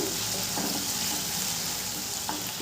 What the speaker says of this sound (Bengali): আদা রসুনটাকে খুব ভালো করে কষিয়ে নেব, যতক্ষণ না পর্যন্ত কাঁচা গন্ধটা যাচ্ছে